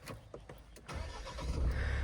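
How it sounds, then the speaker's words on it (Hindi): A Mahindra Thar Roxx MX3 SUV, its door open, cranks briefly and its engine catches, then settles into a steady, rising low rumble, close and fairly quiet. "एक बार अब मैं कार को स्टार्ट करता हूँ"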